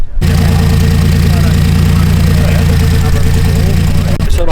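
A VW fastback with a Chevy V6 Camaro engine mounted in the back and a Subaru gearbox idles steadily, loud and close, with a continuous low rumble throughout. It starts abruptly and changes briefly at the very end.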